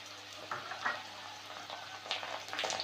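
Potato pieces and white mustard seeds fry in a hot pan with a steady close sizzle, broken by a few louder bursts and stirring scrapes.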